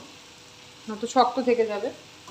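Fish pieces added to a well-cooked, sizzling spice paste in a pan for a Bangladeshi-style fish dish, with a low frying hiss behind a person talking over it.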